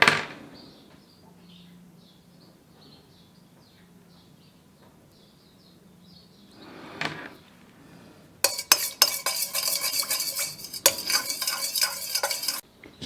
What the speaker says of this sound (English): what we've done here is stirred metal oxides into melted fats and oils